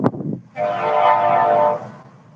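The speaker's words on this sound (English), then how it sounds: "There go that train." A passing train sounds its horn in one long, steady, loud blast lasting about a second, after a brief rumble of the train, with no talking.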